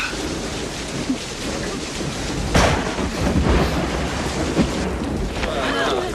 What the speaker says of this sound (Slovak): Ten dážď nie je zlé znamenie, ver mi.